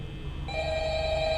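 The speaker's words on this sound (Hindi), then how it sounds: "फ़ोन बज रहा बे" Phone ringing in the office in Five Nights at Freddy's, a steady electronic ring tone that starts partway through and holds at moderate loudness with no voices over it.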